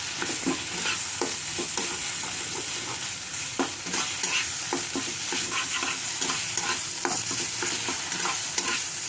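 Masala for potato and cauliflower dum is sautéed dry in oil in a pan, with repeated scraping strokes of a spatula over a soft background sizzle, close and fairly quiet, no talking.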